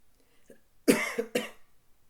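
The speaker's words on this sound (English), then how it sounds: "Excuse me about me coughing" Two sharp coughs close together, near and fairly loud, preceded by a faint small noise in an otherwise quiet room.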